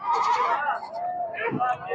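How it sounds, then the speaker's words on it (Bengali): Black Bengal goats bleat at a crowded goat market at Chatmohar rail bazaar, their wavering bleats close and loud amid the noise of the market crowd. "দেখেন এখানে অসংখ্য বড় বড় সব খাসি ছাগল আছে"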